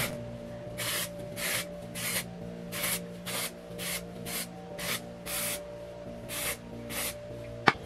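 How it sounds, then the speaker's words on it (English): A dozen or so short hissing bursts of dry shampoo sprayed close by in a steady rhythm, over a faint low background hum. "I'm going to just spray this on my hair"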